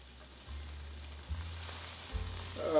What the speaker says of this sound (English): Help the onions sweat a little bit. We'll saute these